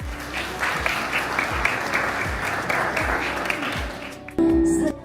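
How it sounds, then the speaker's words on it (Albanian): An audience at a song promotion event for a singer breaks into dense, steady applause mixed with cheering. The crowd noise holds strong for several seconds, then cuts off abruptly. "e cila duar trokit me brohoritje të mëdha"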